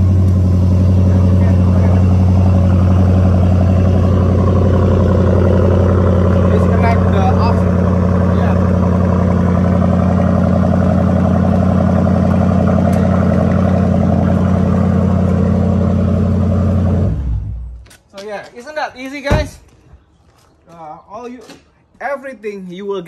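A car engine idles after a jump start with a steady, loud rumble for a long stretch, then cuts out, leaving someone speaking.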